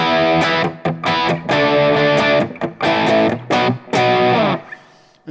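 An electric guitar runs through an Orange Rockerverb 50 amp with heavy distortion, playing loud, close, chopped chords and riffs with short gaps between bursts, ending in a ringing tail.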